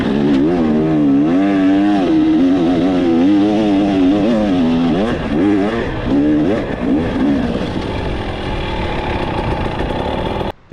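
A 2023 KTM 300 XC TBI two-stroke dirt bike engine revs hard and close, pitch swinging up and down in quick wavering surges before settling into a steadier high drone that cuts off abruptly.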